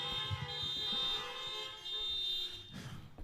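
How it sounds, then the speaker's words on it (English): A car horn blares in sustained, steady tones, fairly faint and somewhat distant, with a brief break and a second burst before ending, no voices over it. "something about just honking the horn."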